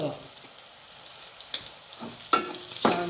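Peanuts frying in hot oil in a pan for kanda poha, a soft continuous sizzle with a few sharper crackles and pops growing louder toward the end.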